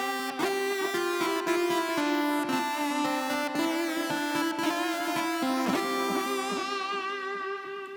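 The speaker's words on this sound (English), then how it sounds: "This is made using the Korg Poly-61." Korg Poly-61 synthesizer played dry, with no Sansamp GT2, as a sustained, bright polyphonic tone of two slightly detuned, gently beating oscillators moving through held chords, steady and close before softening near the end.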